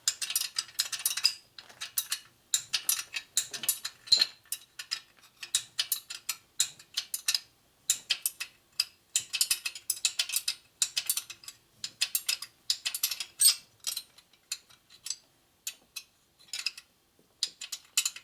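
Ratchet clicking in repeated bursts of quick pawl ticks while tightening cylinder head bolts on a Harley shovelhead top end with big bore stroker cylinders, close and fairly quiet, with short pauses between strokes and no talking.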